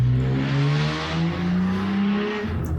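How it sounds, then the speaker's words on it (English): Passing cars outside sound as a steady, fairly loud engine drone with rising and falling tones, sweeping by continuously for a few seconds with no talk. "noisy cars we have around here"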